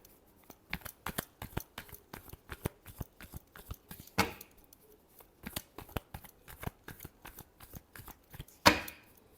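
Tarot cards being shuffled by hand give rapid, close bursts of crisp riffling and slapping, irregular and clustered, with a louder snap near the end and no talking.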